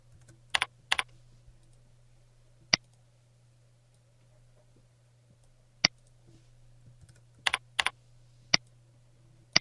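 Sparse keyboard clicks from someone typing a label into a diagram tool, a few isolated taps and quick pairs spaced over several seconds, near and quiet over a steady low hum.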